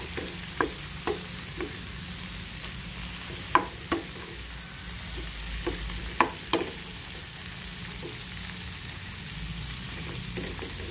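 Large shrimp fry in a pan just after being flipped, a steady soft sizzle with occasional sharp pops and clicks of a utensil, heard alone with no talking.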